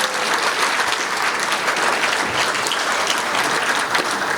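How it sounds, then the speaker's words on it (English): Audience applause at a celebration honoring a judge, a loud, dense and even round of clapping from a large crowd that holds for several seconds without talk. "I would appreciate a round of applause for all those folks who put it together"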